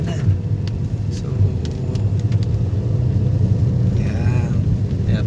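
A Toyota Vios drives after replacement of two transmission solenoids, its engine a steady low rumble with road noise throughout, shifting smoothly at lower RPM; faint voices murmur underneath.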